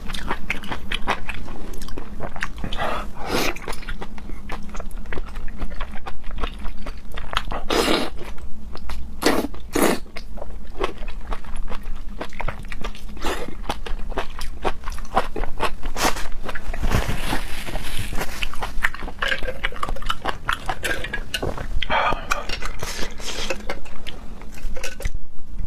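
Fresh oyster, salmon and scallop sashimi are chewed close to the mic, with continuous loud wet biting, crunching and smacking and no talking.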